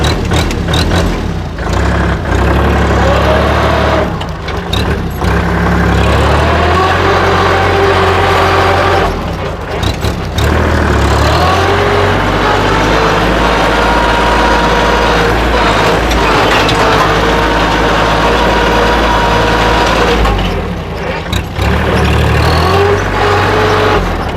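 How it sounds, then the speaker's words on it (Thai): A 2011 Kubota L3608 tractor engine runs steadily at close range, a loud low rumble with a droning hum that shifts slightly in pitch as it revs. "มาชมการทำงานของรถไถคันนี้กันครับ"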